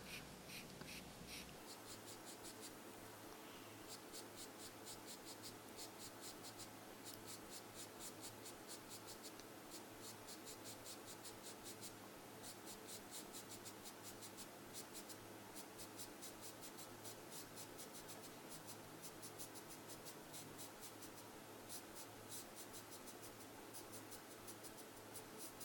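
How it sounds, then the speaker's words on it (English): A 6B charcoal pencil scratches out fine hair strokes on paper, a steady close dry scraping of quick repeated short strokes that continues almost without pause. "Now I'm going to take the charcoal pencil, the 6B pencil, and draw a few hairs."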